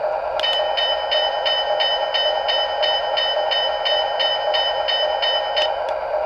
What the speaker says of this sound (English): So just like a traditional switcher bell.